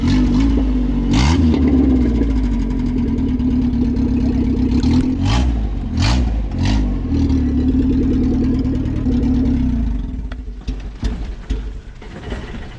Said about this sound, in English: You gotta give it a little gas on startup. Just carbureted things.